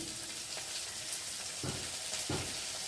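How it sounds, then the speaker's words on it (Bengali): Potatoes frying in hot oil in a kadai, a steady hiss and sizzle throughout, with a couple of brief louder crackles as pieces are added or stirred. "এখন আমি আলুগুলোকে তুলে তুলে আগে কড়াইতে দেবো"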